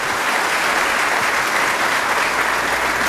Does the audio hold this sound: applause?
yes